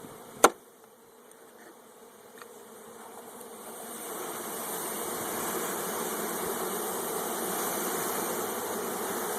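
A dense, steady buzz of a 3-pound package of honeybees, about 3,000 bees, swells gradually and holds, after a single sharp knock near the start.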